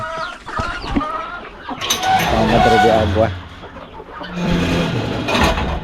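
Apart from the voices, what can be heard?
chickens clucking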